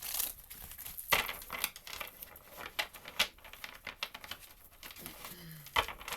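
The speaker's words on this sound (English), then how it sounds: "I'm going to shuffle 3 times." Tarot cards being shuffled by hand, a run of soft crisp riffling and patting sounds with occasional sharper snaps, close and quiet, with faint talk in the background.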